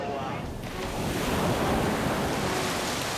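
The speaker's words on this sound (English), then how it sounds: "And waves can also double up when they bounce off a surface, like a harbour wall." Ocean waves surge and crash against a harbour wall in a dense, roaring wash of surf, mixed with heavy wind buffeting the microphone and building slightly louder through the moment.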